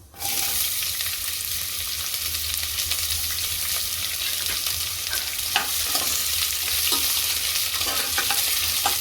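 Onion sizzles steadily in hot oil in a pressure cooker with bay leaf and cumin tempering for vegetable pulao, a loud continuous fry with occasional stirring scrapes throughout.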